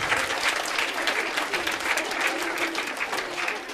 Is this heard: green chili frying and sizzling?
no